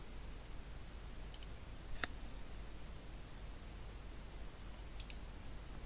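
Several sharp computer mouse clicks on a Mac while browsing privately with Tor, scattered and faint against steady background hiss, with a small cluster early, a single clearer click in the middle and another pair near the end.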